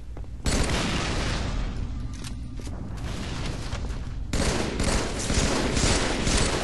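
Rapid automatic gunfire bursts from a team doubles shooter video game, dense and loud, sustained fusillade with a brief dip before resuming even heavier, no voices.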